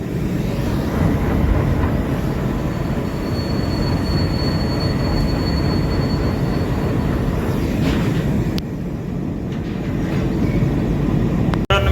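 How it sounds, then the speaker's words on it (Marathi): A freight train runs through Beed railway station, a steady loud rumble of wagons and wheels that continues throughout, with a faint high squeal in the middle and a brief drop in level near the end. "सध्या ट्रेन चालू आहे"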